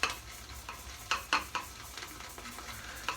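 A shaving brush loading shaving soap in a bowl, a wet, frothy swishing broken by a series of brief scraping strokes in an uneven rhythm, close and fairly quiet.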